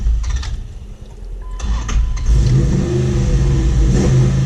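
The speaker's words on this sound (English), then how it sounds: "You gotta rev her up and dump the clutch." A car engine revs up for a burnout, starting from idle with a few clicks and rising into a loud, sustained mid-pitched roar that holds steady to the end.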